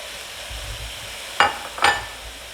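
Tomatoes drop into a pot of sizzling chicken and cabbage, giving two brief bursts of hiss and splatter over a steady low frying bed.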